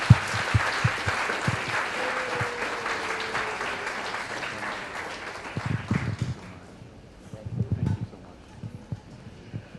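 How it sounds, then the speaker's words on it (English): An audience applauds after a music performance at a grantmakers' gathering, with a steady round of clapping that fades out and then a few scattered claps near the end. "Another round of applause."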